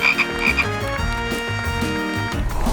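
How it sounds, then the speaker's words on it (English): A cartoon frog croaks repeatedly in a kids' puzzle game, loud ribbiting over bright, bouncy background music, no talking. "Oh, it's a frog."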